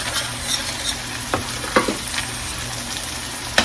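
Flour and grease cook in a pan for gravy, giving a steady close sizzle with a few scrapes and taps of stirring over the top, and no talking.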